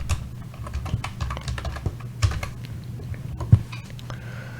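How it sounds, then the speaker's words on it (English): Close, quick keyboard typing as a command is entered in AutoCAD Advance Steel: a short run of irregular light key clicks over a faint steady room hum, with no voices. "just type in Flatshot"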